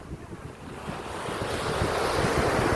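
Strong wind buffets the microphone at Caba Beach in La Union, Philippines, at high tide, a loud continuous roar that builds over the surf, with no voices.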